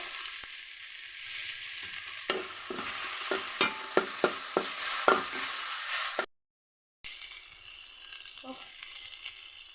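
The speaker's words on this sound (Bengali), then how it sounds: "পেঁয়াজটা আমি ভেজে নেব এর মধ্যে দুই চামচ আদা রসুন পেস্ট দিয়ে দিচ্ছে" Onion frying in a pan with ginger garlic paste, a steady close sizzle with sharp clicks of a spoon stirring and scraping, broken by a brief silent cut before the frying resumes.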